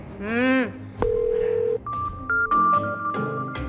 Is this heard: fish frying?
no